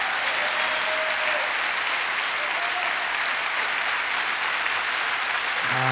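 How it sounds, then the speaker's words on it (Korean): Dense, sustained applause from a large church congregation at a healing worship service, a loud continuous wash of clapping filling the room from start to finish. "우리 하나님께 감사와 영광의 박수 올려드리기를 원합니다."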